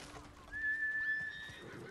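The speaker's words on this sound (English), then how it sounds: "Oh, nice nice brown horse." A horse neighs in Ghost of Tsushima, one clear rising whinny in the middle of the stretch over soft ambient game background, with no talking.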